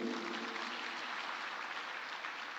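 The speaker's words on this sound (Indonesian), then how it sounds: "Yang setuju tepuk tangan dulu." A church congregation at an evangelistic gathering in Waingapu, East Sumba, breaks into steady, full applause, a dense wash of many hands clapping at even loudness throughout, with no voices standing out.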